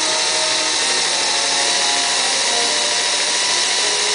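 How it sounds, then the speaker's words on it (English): A power drill grinds steadily into a brass lock plug, a loud, continuous high-pitched whine that holds without pause. "very carefully, without drilling a hole in your hand, drill into the plug"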